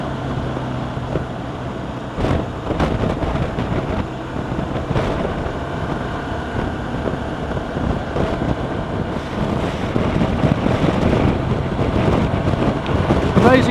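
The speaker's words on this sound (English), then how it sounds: "Amazing how the wind affects your balance actually." Wind roars and buffets steadily around a rider on a BMW R1200RT motorcycle at speed, a broad continuous rush with gusty swells and a few sharper thumps, loud and close throughout.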